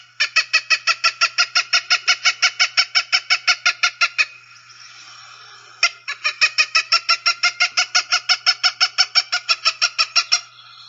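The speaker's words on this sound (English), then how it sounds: "it's a shortened version of the main song that's produced by either sex for Cooper's Hawk" A Cooper's hawk gives two long bouts of rapid, evenly spaced sharp keck notes, loud and close, separated by a brief pause.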